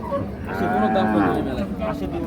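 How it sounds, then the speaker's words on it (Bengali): A Holstein Friesian cow moos at the Ambari cattle market, a long, loud, close bellow that swells and fades, with crowd noise underneath. "এই যে দেখছি আমরা গাভী এবং বাছুর"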